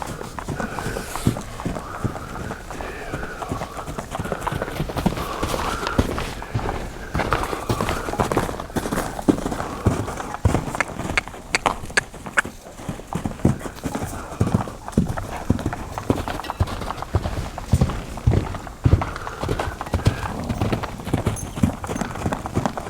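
A loose black mare named Black Betty moves around on sandy ground, her hooves clopping in a dense, continuous rhythm close by, with brief snorts and a little speech in the background.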